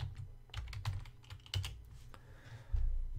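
Fingers type the word CCleaner into a web browser's address bar on a computer keyboard: several quick, close clusters of crisp keystrokes with short pauses between them and no voices.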